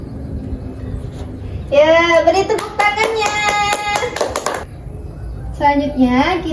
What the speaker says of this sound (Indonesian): Ya, beri tepuk tangannya.